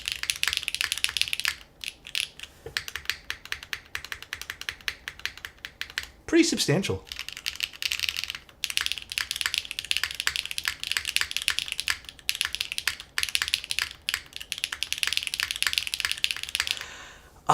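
Rapid clacky typing on a Stratum-80 mechanical keyboard build with a spacebar gasket, dense keystroke bursts with brief pauses, close and crisp, while a voice speaks briefly in the middle.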